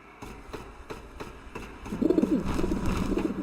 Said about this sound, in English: we're just going to run past these birds, because trying to fight 4 birds on this very narrow walkway is not the smartest idea